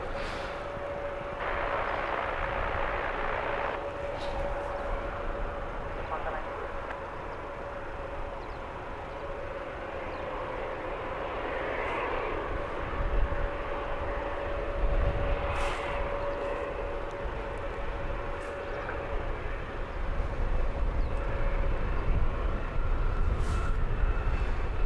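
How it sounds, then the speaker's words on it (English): An EasyJet airliner descends to land at Luton Airport, a steady broad roar of jet engines building slowly over the whole stretch, with a sustained whining tone running beneath and no voices. "as we watch this EasyJet about to touch down."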